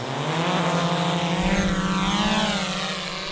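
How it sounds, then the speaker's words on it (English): A drone flies overhead, its rotors giving a steady, loud droning whine with a slowly rising and falling pitch that holds throughout, close and continuous. "I'm gonna try and fly the drone a bit lower to the road we have over here"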